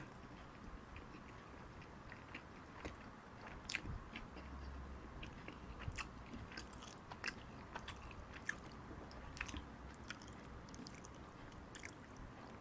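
Quiet, close crunching bites and chewing of crisp toasted bakery bread, irregular soft crackles over a faint background hum.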